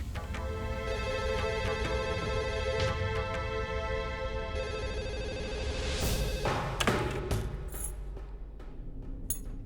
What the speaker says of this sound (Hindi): मेरी सहेली प्रीति का फोन है